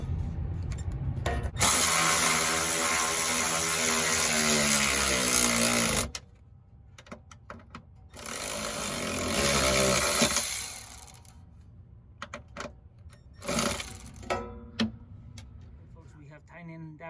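A power tool whirs in two sustained bursts, tightening a bracket for a kids car seat on a classic car, with quieter clicks and handling noises between runs and a voice talking nearby.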